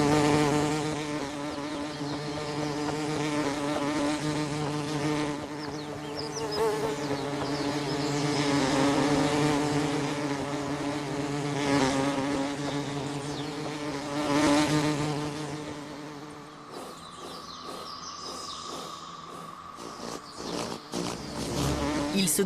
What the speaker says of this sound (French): ils reculent devant les abeilles et les guêpes